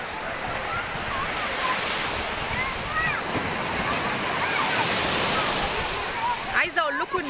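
Sea waves roll onto the beach at Ras El Bar in Egypt, a steady loud wash of surf with wind, and birdlike chirps and a brief voice near the end.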